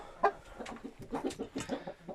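A young rooster clucks in a string of short, close calls at an irregular pace, with one sharper note near the start, quiet and alone without talk.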